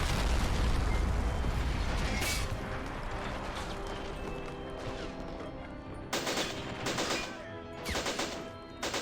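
Artillery fire and explosions sound in a war game's mountain landing assault by Red Army troops. A loud close blast rumbles and fades, then a cluster of sharper bursts follows.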